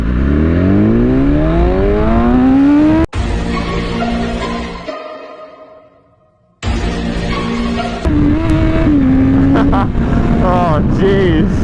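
A BMW S1000RR sport motorcycle accelerates hard from a standstill, its loud, close engine climbing steeply in pitch through several quick gear changes, with a short drop in sound between shifts before it winds up again.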